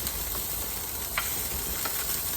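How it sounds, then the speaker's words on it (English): Broccoli sautés in a pan with a steady, close sizzle and a few soft clicks and scrapes as florets are moved with tongs; no one speaks. "That's how I saute my broccoli."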